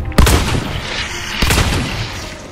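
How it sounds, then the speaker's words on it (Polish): Two loud gunshots in the multiplayer shooter Hunt: Showdown, about a second apart, each a sharp close-range blast trailing into reverberant decay, with no voices over them. "Dwa strzały, dziękuję."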